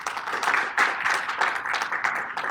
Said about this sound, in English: How about a nice round of applause for Mr.